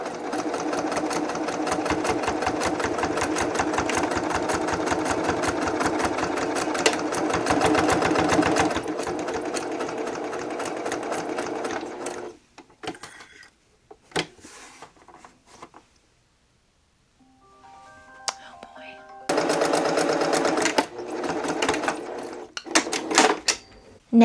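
A sewing machine runs continuously at close range as it back-stitches over a fabric bookmark, then stops and starts in short bursts before a final fast run, with small clicks in between.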